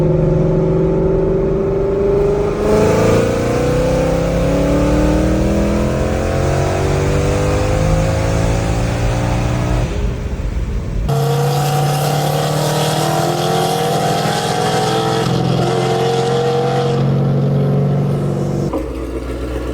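A supercharged Ford Mustang GT with about 100,000 miles, fitted with a Gen 6 Whipple supercharger, runs with a loud, steady engine drone that rises and falls in pitch. A sharp shift in tone comes midway, and no one speaks.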